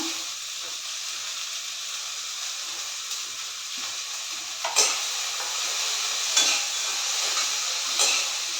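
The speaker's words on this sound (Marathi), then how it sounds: "कांदा परतून झालाय आता त्यात टॅमॅटो टाकून घ्यायचा" Tomatoes frying in a pan with sautéed onions for pav bhaji give off a steady, close sizzle, with a few louder crackling bursts later on and no voices.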